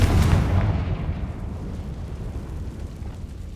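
A Confringo blasting spell detonates in Hogwarts Legacy, a loud explosive boom at the start that rolls into a long, rumbling decay with no voices.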